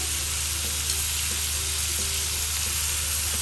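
Water spinach with baby prawns fries in a pan, giving a loud, close, unbroken sizzling hiss with faint stirring scrapes and no voices.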